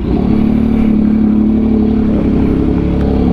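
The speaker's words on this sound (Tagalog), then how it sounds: "Pandarin na natin ang maingay nating motor." A noisy motorcycle engine runs loud and close, its low rumble rising in a steady rev with rattling clatter throughout.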